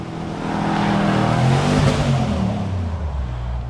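A car engine revs hard on a city street in Dallas, a loud, sustained roar that swells and holds for several seconds at close range.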